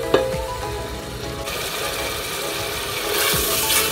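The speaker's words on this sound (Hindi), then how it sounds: "दो तीन मिनट तक इन खड़े गरम मसालों के साथ भूनेंगे। फ्लेम को हाई कर लें।" Whole garam masala spices fry in hot oil over a high flame, giving a loud, steady sizzle with a few clatters from stirring and a brief swell of hissing near the end.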